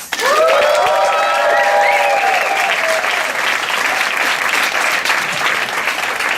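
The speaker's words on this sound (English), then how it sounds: "give a huge round of applause for Domien Vloeberghs!" Loud, full audience applause with some cheering for a comedian taking the stage at a comedy night, sustained evenly across the whole stretch with brief vocal whoops early on.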